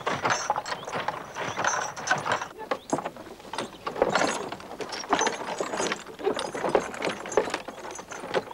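Steady clip-clop of a horse's hooves pulling a farm cart, with creaking, rattling cart mechanics, a busy mid-distance clatter that continues throughout.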